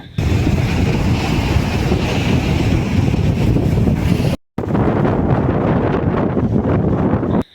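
Strong cyclone wind at the beach on Chennai's ECR near Kovalam blasts hard against the microphone over the roar of high surf, loud and continuous with a brief cut partway through.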